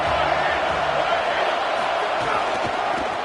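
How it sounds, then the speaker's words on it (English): Football stadium crowd roaring as a steady, dense wash of noise, loud and continuous throughout with no distinct breaks. "This crowd ready to make its presence known"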